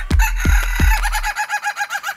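A rooster crows once in a loud, close call, preceded by a few short low clucks and followed by a rapid, pulsing warble as the crow trails off.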